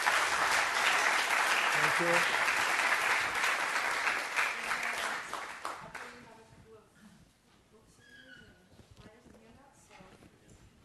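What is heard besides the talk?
audience applause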